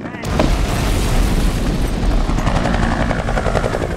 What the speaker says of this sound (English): We have the helicopter coming up over the hill.